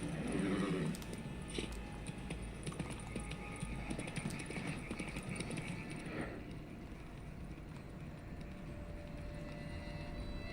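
Horse hooves clip-clop steadily at a gallop in The Witcher 3, a continuous rhythmic pounding at moderate level with a brief snort near the start, under faint game ambience.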